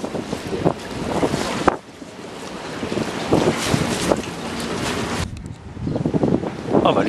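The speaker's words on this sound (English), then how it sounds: "Here we are, berthing in Gravesend." Boat berthing at Gravesend on a windy day, with steady wind buffeting the microphone, water sloshing against the hull and scattered low knocks and bumps throughout.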